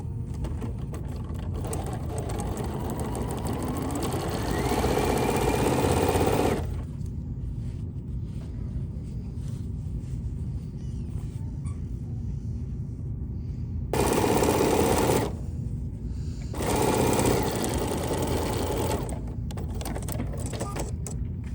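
Sewing machine stitching a sashing strip onto a quilt block, a rapid mechanical whir that runs in long bursts with short pauses between, close and fairly loud.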